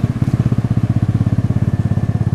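A Vespa Matic Sprint 150cc scooter with a faulty airflow sensor idles loud and close, its engine popping and backfiring in a fast, regular chugging pulse throughout.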